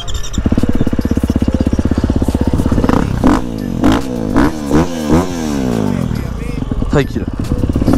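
A motorcycle starts and revs, its engine rumbling steadily with rising and falling revs while someone talks briefly over it.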